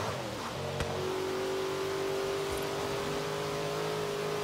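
Lamborghini Jalpa engine in Forza Horizon 3, holding a steady high-revving drone that shifts up a gear partway through, loud and continuous with no talking.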